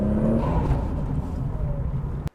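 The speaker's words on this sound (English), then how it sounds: "maybe we'll listen to the car for a little bit" A Holden VL Calais Turbo running 17 pounds of boost rumbles and whirs steadily up close, a loud continuous engine drone that cuts off abruptly at the end.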